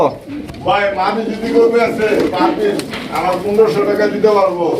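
Pigeons coo repeatedly at a pigeon sale, the soft throaty calls mixed in with steady conversation between men close by.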